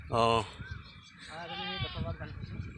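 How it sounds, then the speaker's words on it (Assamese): A female goat bleats loudly nearby in a field, a short wavering cry followed by a longer quavering bleat, with faint background noise between. "এটা ছাগলী এৰাল দিছে"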